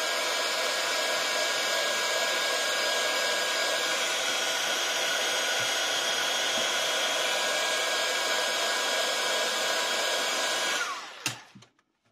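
A heat gun blows hot air in a steady, loud broadband rush while working on a craft album; it runs continuously and then cuts off with a couple of clicks near the end.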